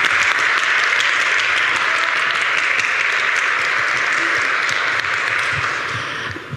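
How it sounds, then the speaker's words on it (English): Conference audience at an OSGeo and OpenStreetMap talk clapping for the speaker, a steady burst of many hands that holds evenly and then tapers off at the close. "Give her a big clap."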